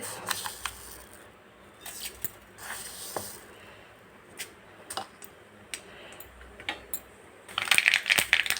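Mustard seeds crackle and pop in hot oil, scattered sharp ticks that grow into a denser sizzling burst at the end.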